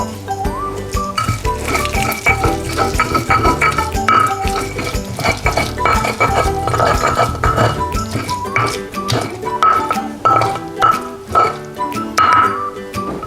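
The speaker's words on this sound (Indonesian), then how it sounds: "Ketika kita ulek seperti ini, semua minyak yang ada di dalam bumbu-bumbu ini akan terperas keluar" Pestle grinding sambal terasi spices in a stone mortar (cobek), a busy run of repeated scraping and knocking strokes at close range that continues throughout, with faint talk in the background.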